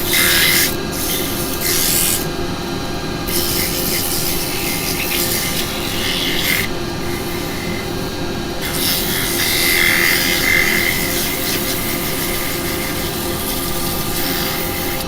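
Sandpaper rubs against a turned wooden piece spinning on a lathe, a close, steady raspy hiss over the motor's hum, with brief changes in tone as the paper is lifted and pressed again.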